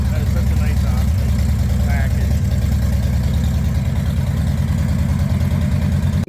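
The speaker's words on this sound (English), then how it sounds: "You just can't beat that good old Hurley exhaust." A truck with a 117 engine and Hurley exhaust idles with a deep, steady exhaust rumble, loud and close, with faint voices in the background.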